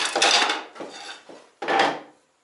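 Thin slices of walnut and then cherry wood being cut for a cutting board: three rasping, scraping bursts, the first long and loud, a fainter middle stretch, then a final strong burst, close up with no talk.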